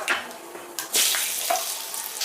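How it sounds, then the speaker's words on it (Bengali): Black cumin and green chili tempering sizzles in hot oil with a bright, hissing crackle that swells in short bursts and stays close and fairly loud throughout. "এবারে এই তেলের মধ্যে ফোড়ন দিচ্ছে কালো জিরে কাঁচা লঙ্কা"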